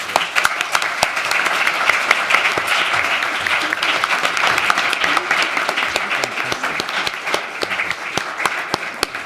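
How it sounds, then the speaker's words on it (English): Audience at a business anniversary event applauds the panellists with a long, vigorous round of clapping, dense and even, with sharp individual claps standing out close by. "Let's give them a huge round of applause."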